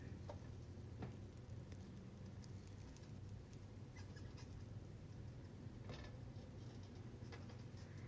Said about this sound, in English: now we're gonna go ahead and start and toast our bread